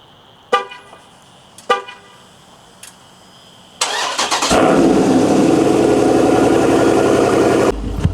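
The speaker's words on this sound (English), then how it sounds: "So give y'all a little cold start" A Jeep Grand Cherokee SRT on a cold start: a few sharp chimes and clicks, then the engine cranks and catches with a loud roar that settles into a steady, rumbling idle, close by.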